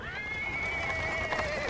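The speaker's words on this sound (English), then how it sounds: "He is interrupted by the sound of wheels rolling on paving stone." A horse neighs over a continuous rolling rumble as a horse-drawn cart comes along a paved road in the Pathfinder: Wrath of the Righteous role-playing game, one drawn-out whinny over steady wheel noise.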